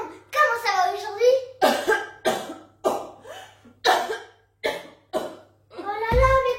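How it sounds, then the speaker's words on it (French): A young child coughs in a series of sharp, close bursts, several separate coughs spaced through the clip, with a voice and adult French speech heard around them. "mais comment tu tousses?"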